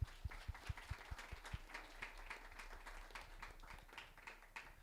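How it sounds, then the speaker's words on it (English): A panel event audience applauds, opening with a few distinct, sharp claps before settling into a quiet, scattered patter of hands from a small crowd, faint and somewhat distant. "Can we give all of them a round of applause, please?"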